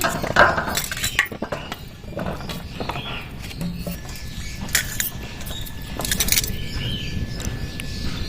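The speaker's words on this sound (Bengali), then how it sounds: "একটা পাত্রের মধ্যে জল ঢেলে নিলাম এবার আমলকিগুলো ভালো করে ধুয়ে নেবো" Amla gooseberries knocked and swished by hand in a bowl of water, giving close, irregular splashes, light clinks and patters that keep going with no talk.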